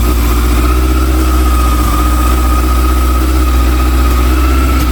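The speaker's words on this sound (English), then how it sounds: "then start the engine. So far I can't see any leaks or anything. It's running for about 1 minute." A motorcycle engine with a freshly restored Mikuni BDST 38 carburetor idles steadily and loudly up close, a fast, even putter with a constant mechanical drone, running slightly high, and no voices.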